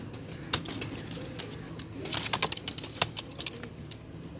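Desi karela pigeons at a bird market in Multan make sharp, irregular clicks and flutters, with a brief burst of wing flapping midway over a quiet background hum.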